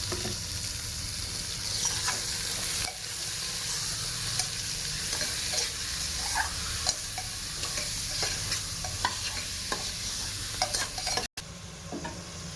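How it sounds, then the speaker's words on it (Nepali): Goat meat sizzles and fries steadily in a pan for a Nepali khasi masu jhol, with continuous crackling and occasional scrapes of stirring, close and fairly loud, no talking. "मासु हालेर मजाले फ्राई गर्छु मासुलाई चाहिँ 10 मिनेट जति"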